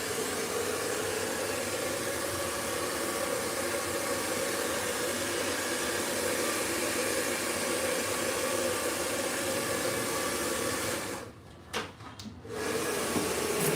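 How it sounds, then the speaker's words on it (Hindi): A blow dryer drying smoothed, freshly layer-cut hair gives a loud, steady close-up whoosh that briefly cuts out near the end, then resumes. "आगे से बाउंस चाहिए तो आपको यहाँ से ही ब्लो ड्रायर करना पड़ेगा, इस तरह से।"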